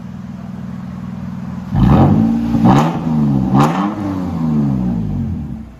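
Toyota Tacoma 3.5L V6 TRD off-road truck with an aftermarket exhaust, idling with a steady burble before three sharp revs rise and fall close by, the engine settling back to a throaty idle between blips.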